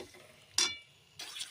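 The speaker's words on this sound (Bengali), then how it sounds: "এখন ভালো করে নেড়ে দেব।" Spiced marinated meat being stirred into a pot of cooked-down masala for biryani, heard as two short scraping bursts of spoon against the pot over a faint low sizzle.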